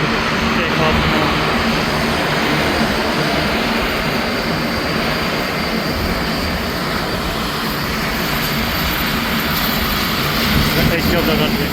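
Airliner taking off from the Charlotte Airport runway, a loud, sustained broad jet roar with no break, heard at a distance from beside the runway.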